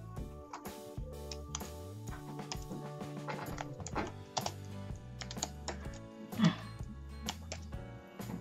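Rapid, irregular keystrokes on a computer keyboard while laying out a design in Canva, close and crisp with short pauses between bursts.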